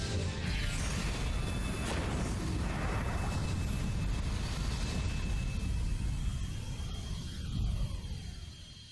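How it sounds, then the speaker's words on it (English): A large explosion in the video game Fate/Hollow Ataraxia bursts into a loud, sustained roaring rumble with crackling debris that persists for several seconds before swelling once more near the end. "It's a pretty large explosion and probably causes even more property damage"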